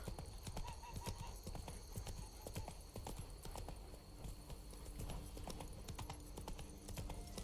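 Horse hooves clip-clop in a steady walking rhythm in The Witcher 3, with a brief whinny over busy in-game ambience of a small town, moderately close and continuous.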